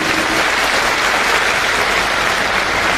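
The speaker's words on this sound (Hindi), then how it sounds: "जोरदार तालियां एक बार" Dense, sustained applause from a large town hall audience at an education event in Prayagraj, a steady roar of many hands clapping at once with no pauses.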